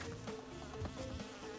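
Buzzing bees in Crash Bandicoot 2 from the N. Sane Trilogy, a steady insect drone running under game music and effects through a short stretch.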